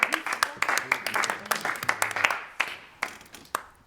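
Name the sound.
group applauding themselves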